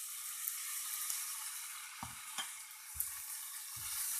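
Pasta stirred in a pan of red and white sauce over a lowered flame, a continuous bright sizzle and frying hiss with a few soft scraping knocks of the spoon against the pan.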